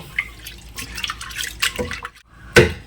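Mung dal lentils are rinsed in water by hand, with close splashing, dripping and swishing sounds in short bursts, ending with a sharper splash.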